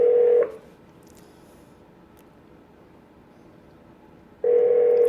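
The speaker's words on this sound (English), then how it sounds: "So now we're dialing him. And it's dialing. We're going to hear all the sounds through the speakers of the boat." A telephone call being dialed plays through a boat's speakers: a loud, steady electronic tone, then a long near-silent gap, then the same tone returning, with no talking.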